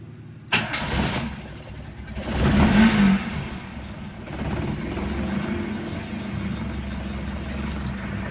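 A Toyota Starlet fitted with transistor-assisted contact ignition cranks and fires, then revs up loudly before settling into a steady, rumbling idle close by.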